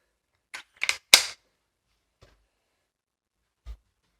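A spring air rifle fires a JSB 8.44 grain pellet: a quick cluster of sharp cracks and clacks close by, followed by a couple of faint, isolated clicks in otherwise silent surroundings.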